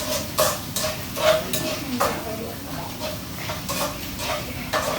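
Spaghetti and smoked beef being stir-fried in a pan: continuous sizzle with repeated scraping and clanking strokes of a utensil against the pan, close and fairly loud, with no talk.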